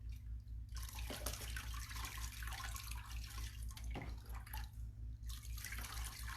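Water splashing and running as a freshly marbled sheet of paper is rinsed, a steady wash of trickling water with a low hum underneath, fairly quiet and close.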